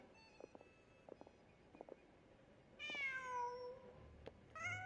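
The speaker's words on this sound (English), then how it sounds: "Just a cat." A cat in Genshin Impact meows twice, clear and close, after a few short faint clicks, with a long drawn-out meow and then a shorter one.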